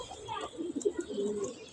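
Soft, fairly distant cooing from pigeons in a loft, low murmuring calls in a quiet setting with faint background voices.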